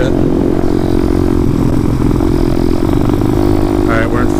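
A motorcycle engine revs hard and steadily in fourth gear while the rider holds a wheelie, a loud, continuous roar throughout with a brief rattling change near the end.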